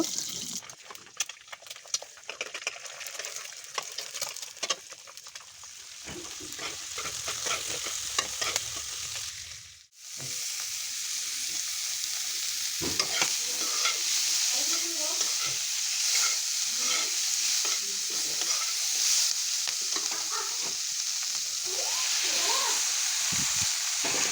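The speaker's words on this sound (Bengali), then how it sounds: "এখন আমি একটা কড়াই বসিয়ে দিই এখন ডিমের ভুজিয়া বানিয়ে নেব" Egg bhujia being stir-fried in a kadai: steady, close sizzling with scraping stirs throughout, a brief dip near the middle, then continuous frying with spatula clatter.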